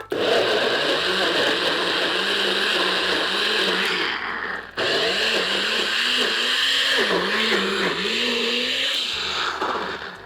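A kitchen blender whirs loudly, mixing a beetroot ceviche dressing of lime juice and olive oil, running steadily for about four seconds, cutting out briefly, then whirring again with a wavering motor pitch.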